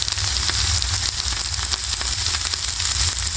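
Liquid butter sizzles loudly and steadily on a hot flat-top griddle, a dense continuous crackle with scattered pops and no voices.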